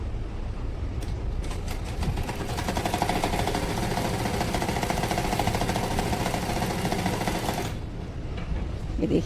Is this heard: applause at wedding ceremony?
no